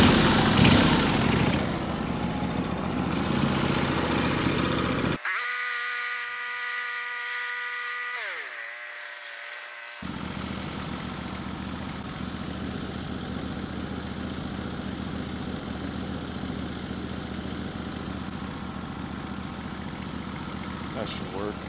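A router trims the top of a wooden window frame, whining loudly and steadily at close range, broken by a few seconds of quieter tonal hum mid-clip before the cutting resumes.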